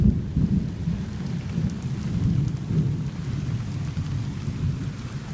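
Pouring rain with rolling thunder during a tornado warning in Brookfield, Wisconsin, a steady heavy downpour under deep low rumbles, continuous and close with no voices.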